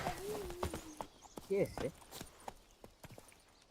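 Hooves of Roach, the horse in The Witcher 3, clip-clopping in an uneven run of soft footfalls, fairly quiet, with people talking over them.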